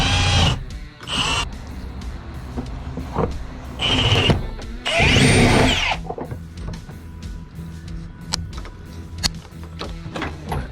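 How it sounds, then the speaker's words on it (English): Power drill boring a hole during plumbing work for PEX and drain lines in a shower house, heard as several short bursts of whining drilling separated by pauses, close by, with clatter between. "finish drilling that hole though"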